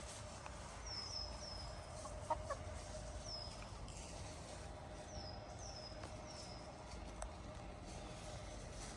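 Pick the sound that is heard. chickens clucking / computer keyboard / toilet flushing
chickens clucking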